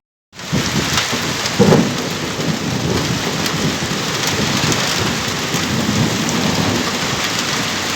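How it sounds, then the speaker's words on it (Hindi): Heavy rain pours across the countryside at night, a dense, steady hiss of drops that begins abruptly and continues without a break, with a low rumble of thunder beneath it. "रात होते होते बादल पूरे इलाके में खूब बरसे"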